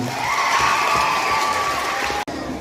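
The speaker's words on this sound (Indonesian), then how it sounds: "Tepuk tangan untuk 7F." A crowd of students claps and cheers loudly at a school scripture quiz contest, with whoops and children's shouts blending into steady applause that cuts off abruptly near the end.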